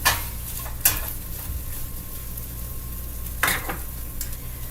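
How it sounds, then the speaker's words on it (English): Hamburger meat frying in a pan, a close, steady sizzle with a couple of brief clinks of utensils against the pan. "Now, gotta cook up the hamburger."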